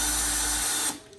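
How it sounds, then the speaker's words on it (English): A power drill drives screws into a plastic drywall anchor while a curtain bracket is hung on a wall, a steady close whine running for most of a second before cutting off, followed by a brief click. "gonna drill the screws into the drywall anchor."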